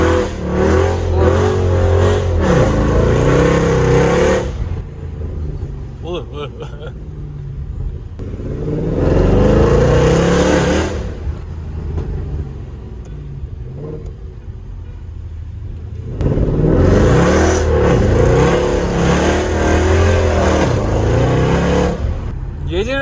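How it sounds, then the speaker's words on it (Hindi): A Mercedes C63 AMG engine revs hard in repeated bursts, the exhaust crackling and popping between pulls, loud and close, with quieter idle stretches in between. "आप गाड़ी के पॉप्स एंड बैंग सुन सकते हैं"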